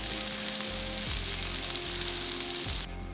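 Chopped onion sizzles in hot oil in a pan with a bay leaf, a constant close crackle broken only by faint low thumps, before cutting off near the end.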